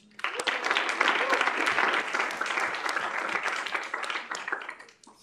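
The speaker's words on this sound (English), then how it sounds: "we'll go ahead and clap for him anyway" Applause from a student gathering at a K-State student involvement event, a dense burst of clapping that swells quickly, holds steady for several seconds and then tapers off at the end.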